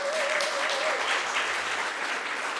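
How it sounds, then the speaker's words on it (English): Crowd applause at a Juneteenth community film and talk event in Sag Harbor, a dense, sustained clapping from the audience that stays even throughout. "Yeah, clap it up for Juneteenth."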